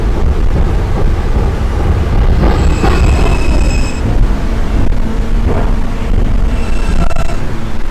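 A New York City R160A subway train on the D line rumbles along loudly and steadily, with metallic wheel squeals and high whining tones rising over the constant roar.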